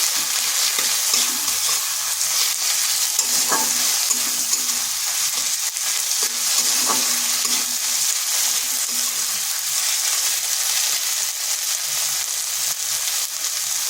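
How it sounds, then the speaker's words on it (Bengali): Ginger and garlic paste fries in a pan, producing a constant close sizzle with stirring scrapes and a couple of brief clinks of a utensil against the pan, no talking. "এরপর আদা রসুনটাকেও একটু ভেজে নিচ্ছি যাতে তার কাঁচা গন্ধটা চলে যায়"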